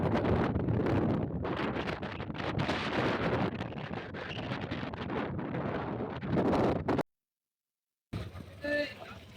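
Strong wind buffeting the microphone outdoors, loud continuous roaring gusts, then a brief silence before the rumbling resumes.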